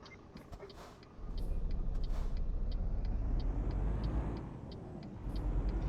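A car pulls away, its engine rising into a steady low rumble after a quieter start, close and continuous, with faint ticking clicks above it.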